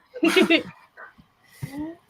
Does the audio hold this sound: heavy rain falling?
no